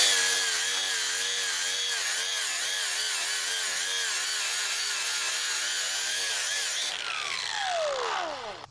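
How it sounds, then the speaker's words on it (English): A wire wheel spinning on a grinder strips rust from metal in a loud, continuous harsh whine that wobbles slightly, then the pitch falls away sharply as the tool spins down at the end. "A wire wheel on a grinder, and I have a variety of them and some fit on drills."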